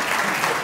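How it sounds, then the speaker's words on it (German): An audience at a coaching convention applauds steadily, a dense wash of clapping that fills the whole short moment without any voices on top. "Ja, ja, ja, mit Applaus sogar."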